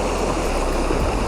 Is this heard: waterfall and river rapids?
yes